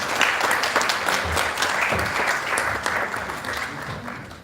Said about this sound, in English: And a big round of applause, please.